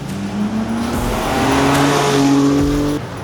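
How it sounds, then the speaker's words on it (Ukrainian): A Toyota Yaris slides sideways on a track day at Tor Kielce in Poland, with BMWs following; loud, close engine roar and steady tyre noise carry through a short continuous pass. "Яріс валить боком"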